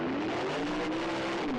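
Car engine from the Christine horror trailer, a possessed car, revving with a rising and falling whine that holds steady over a dense, noisy roar, loud and close with no one speaking.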